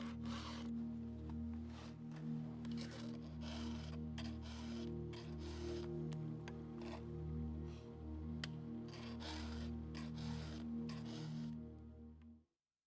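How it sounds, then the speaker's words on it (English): A round file rasps back and forth across a chainsaw chain to sharpen it, steady rhythmic strokes close and clear over a low hum, with no voices. "There are many different styles and techniques for sharpening chains."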